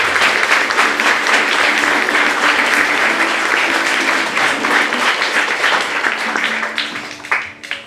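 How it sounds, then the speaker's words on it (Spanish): A church congregation at the close of a Mass for a quinceañera blessing gives the choir a strong round of applause, dense and sustained for several seconds before thinning into scattered claps and faint voices at the end. "Demos un fuerte aplauso también al coro que está con nosotros."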